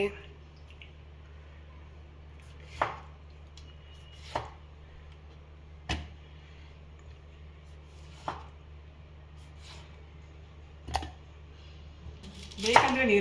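Green chillies being chopped with a knife on a board, about six sharp separate knocks spaced a couple of seconds apart over a quiet low hum, ending in a louder clatter.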